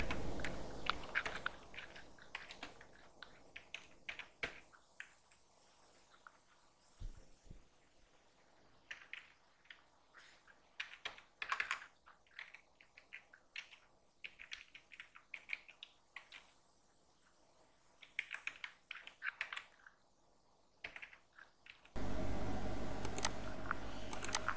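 Computer keyboard typing while writing Python code: faint, irregular bursts of key clicks with pauses between them, and a louder steady noise at the very end.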